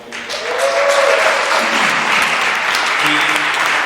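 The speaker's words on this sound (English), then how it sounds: "round of applause real quick" Audience applause at a poetry event, honoring a chaplain seated in the back: a full, steady round of clapping swells in quickly and holds, with a few voices calling out over it.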